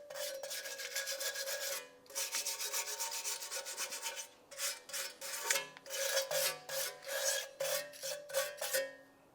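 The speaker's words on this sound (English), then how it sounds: "Let's continue on with a wire brush. We're going to clean up the backing plate." A wire brush scrubs the brake backing plate of a 1998-2002 Lincoln Navigator in close, rapid back-and-forth rasping strokes, first in long bursts, then in shorter repeated scrapes separated by brief pauses.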